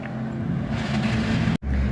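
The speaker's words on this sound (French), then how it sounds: "on a une autre Ferrari qui arrive." A Ferrari sports car arrives at a vintage car tour event near the Pau circuit, its engine a loud, close, steady roar that drops out abruptly for a moment before resuming.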